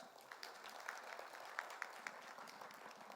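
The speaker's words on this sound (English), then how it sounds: "Come on, guys, you have to clap." Faint applause from an audience at a university entrepreneurship event, a thin patter of claps with a few sharper individual claps standing out, fairly distant and steady throughout.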